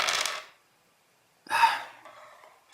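Dice are rolled for a tabletop role-playing combat, making a short clatter, a second of silence, then a longer rattle that settles and ends with a small tap.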